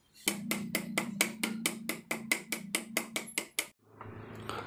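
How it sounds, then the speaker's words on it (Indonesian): A rubber mallet taps a fork seal into the front shock of a Yamaha Mio Sporty, about fourteen quick, evenly spaced knocks that stop abruptly, followed by a short stretch of quieter background noise. "lalu pukul otomatis kan akan terdorong ke dalam"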